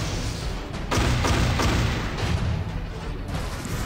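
Weapon fire from the 2014 video game Robocop hits enemies running without cover, producing a loud, dense barrage of booming shots that swells after the first second and continues unbroken.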